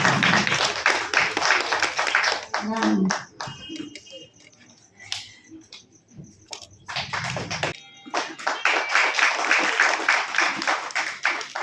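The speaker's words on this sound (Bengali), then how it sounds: "একটু জোরে হাততালি হয়ে যাক" A theatre festival audience applauds loudly, a dense burst of clapping that fades to scattered claps and tapping, then swells again into full, sustained applause.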